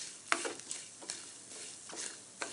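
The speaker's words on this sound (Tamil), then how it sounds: "நல்லா வறுபட்டுருச்சு. இதனோட சூடில் கொஞ்சம் நேரம் வறுபடும்." Masala is dry-roasted in a hot pan, giving a soft, close scratching of a spoon turning the spices, with a few brief, sharper scrape strokes over a faint, steady hiss.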